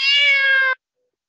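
A cat lets out one drawn-out, high meow, clear and close, lasting under a second and heard alone.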